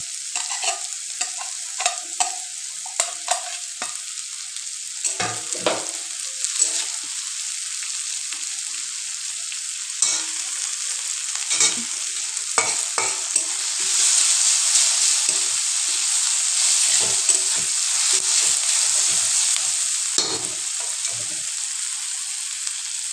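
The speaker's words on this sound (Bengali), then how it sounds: "তারপর সব কিছু একসঙ্গে মিশিয়ে নাড়তে থাকলাম" Egg and flour batter frying in a pan, stirred with a steady sizzle and repeated scraping strokes of a spoon, close up and continuous.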